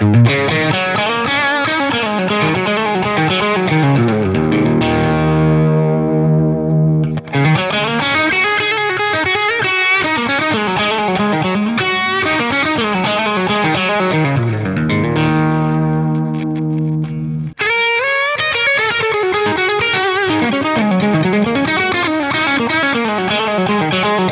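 Overdriven Telecaster electric guitar playing chords and riffs continuously, gritty and sustained, with brief pauses where notes ring out before the playing resumes.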